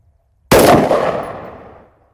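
A single sharp .223 rifle shot firing an Ammo Inc. 62-grain frangible round cracks loudly after brief silence, then rings out and decays over about a second and a half.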